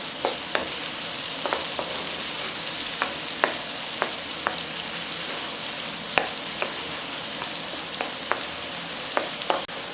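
A steady sizzle of finely chopped onions frying in butter in a hot pan, with occasional sharp pops and crackles throughout.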